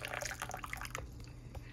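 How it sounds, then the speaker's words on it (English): Boiling water poured from a kettle for turmeric and ginger tea, a short steady liquid trickle with dripping splashes, near and moderately loud, with no talking. "I'm gonna pour it. This water is boiling"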